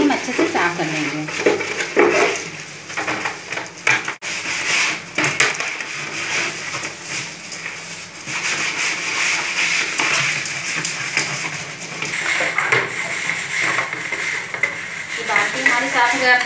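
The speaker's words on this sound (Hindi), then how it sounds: "इसको साफ करने के लिए आप किसी भी पुराने ब्रश का इस्तेमाल करिए, इससे फटाफट ये निकल जाएगा पूरा।" An old brush scrubbing a dirty plastic bucket, a steady close rasping swish with repeated strokes and occasional knocks against the plastic, with someone talking over it.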